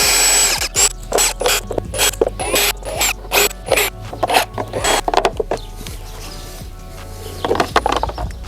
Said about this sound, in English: with a drill, there's a bunch of these screws, and you're gonna want to remove all of them